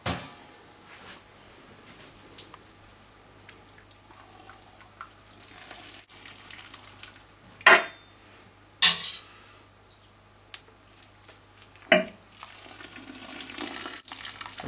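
Three hop bags are lifted out of boiling wort during home brewing. Scattered dripping and splashing bursts of liquid rise from a low background hum, with a few sharper splashes as each bag comes out.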